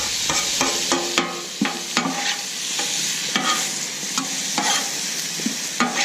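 Shrimp, garlic and butter sizzle loudly on a Camp Chef 600 flat top griddle, with a dense continuous crackle broken by frequent metal spatula scrapes and clinks as they are mixed.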